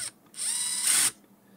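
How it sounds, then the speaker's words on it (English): A power driver whirs as it runs screws into a 48V AC golf cart motor controller, two close, loud bursts with the pitch rising toward the end, then quiet. "So I'm putting all the screws in first."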